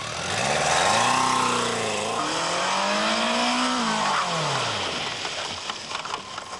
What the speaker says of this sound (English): This is the anti-lock braking system demonstration with the K100LT, the full touring motorcycle.